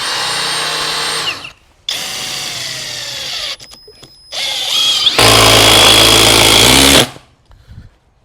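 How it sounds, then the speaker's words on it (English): A power drill bores into wood in repeated bursts, loud and close, with a whining motor that starts and stops several times and a final longer, heavier run before falling quiet. "Now we go ahead and drill in from the side."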